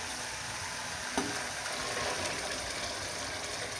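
A steady, even sizzle of green moong frying in a pan, a constant soft hiss with one small clink.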